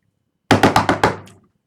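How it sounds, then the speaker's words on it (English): Five quick, loud knocks on a wooden door, evenly spaced and close by, in a ghost story setting; each strike rings briefly and the series ends in a short fading tail, with no voices over it. "The knock was repeated,"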